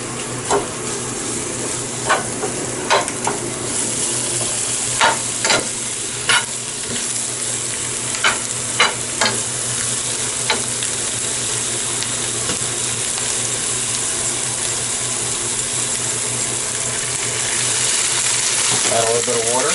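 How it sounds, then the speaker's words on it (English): Brussels sprouts stir-frying with shiitake and red bell pepper in a hot pan: a steady, loud sizzle throughout, broken by sharp clinks of a utensil stirring against the pan. "Put some Brussels sprouts in there."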